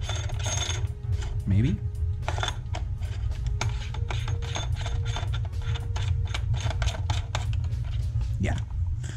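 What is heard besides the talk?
threading a brass barrel into an X Zeus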